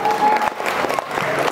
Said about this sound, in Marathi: त्याला सर्वांसाठी जोरदार टाळ्या